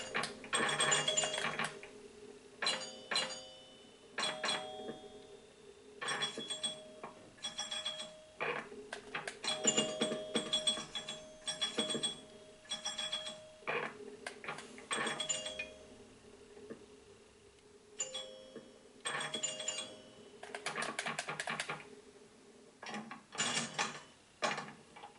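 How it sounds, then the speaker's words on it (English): Pinball machine mechanisms from the Pinball Arcade video game on PS4: busy clacking flippers, bumper hits and rattling parts in irregular bursts, fairly loud and steady throughout with no talking. "You just have to be pretty lucky on this pinball machine."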